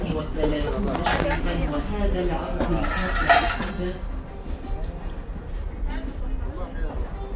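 Aluminium pots and kitchenware clatter and clink as they are handled on a supermarket shelf, with bursts of metallic knocking and rattling under nearby women's conversation, quieting toward the end.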